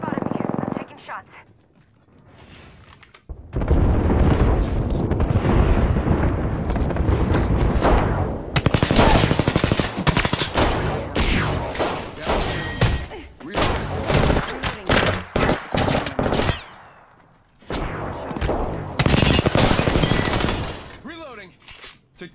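Heavy automatic gunfire and impacts rattle through an Apex Legends battle, with dense, loud bursts that last for many seconds, break off in short gaps and come back again.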